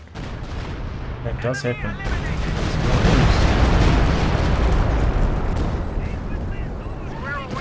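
Anti-tank guns fire and shells explode in a Company of Heroes 2 battle, a dense, continuous roar of blasts and gunfire under a commentator's talk.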